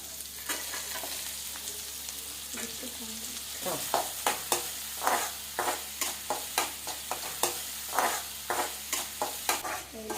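Onion fries in a pan for Yippee chicken noodles, starting as a steady close sizzle, then giving way to a quick, regular run of scraping stir strokes over the continuing crackle of hot oil.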